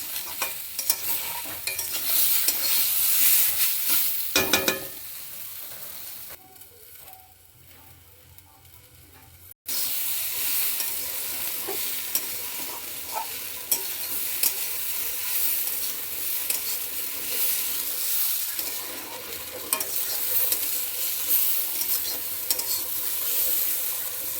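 A spice paste of green chilli, onion, ginger, garlic and cumin sizzles steadily in a pan while being stirred, with scraping and tapping sounds and a quieter pause midway before the frying resumes loudly.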